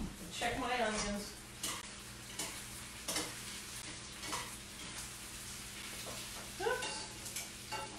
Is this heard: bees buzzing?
no